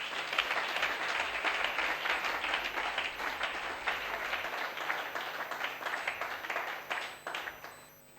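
A church congregation at a Sunday service bursts into sustained applause, dense and fairly loud throughout, easing slightly toward the end, with no voices over it.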